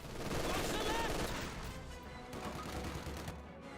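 Rapid bursts of MG42 machine gun fire in the Company of Heroes 2 strategy game, dense and continuous, mixed with battle noise throughout.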